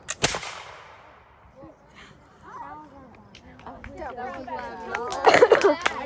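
A musket fired with a blank charge, no ball, during a field trip: one sharp, loud crack that rings away, followed by scattered crowd chatter and excited voices.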